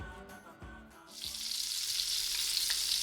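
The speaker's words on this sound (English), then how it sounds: "That, my friend, is the unmistakable sound of sizzling bacon." Bacon sizzling in a pan: after a few soft thumps, a loud, close, steady frying hiss with small crackles and pops starts and holds, with no talk.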